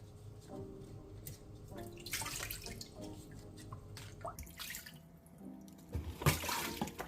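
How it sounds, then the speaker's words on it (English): Fresh soursop leaves are washed by hand in water before being made into tea, with faint dripping, splashing and trickling spread across the clip and a louder splash near the end. "So I'm going to start by washing it properly to remove any dirty and to avoid contaminating the tea."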